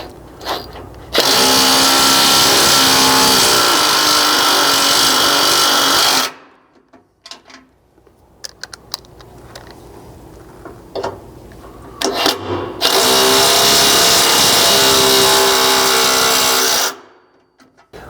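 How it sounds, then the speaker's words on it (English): An impact driver runs bolts into a Chevy Colorado cross member while fitting a skid system, cutting new threads: two long, loud, steady bursts of whirring, hammering rotation separated by a quieter gap with a few clanks and handling noises. "run it in with the impact, cutting new threads into this cross member"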